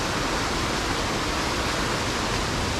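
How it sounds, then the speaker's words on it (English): A waterfall beside a steep mountain trail, the Watson Path up Mount Madison, on a snowy November hike. Its steady, loud broadband rush fills the air without a break and carries no voices. "Past this beautiful waterfall,"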